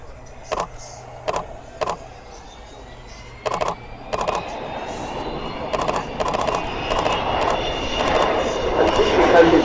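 Avro Vulcan XH558 bomber flying its display at the Farnborough Air Show with gear down. The jet engine roar swells steadily from a distant rumble to a loud, sustained howl, with a commentator's voice and short bursts of sound over it.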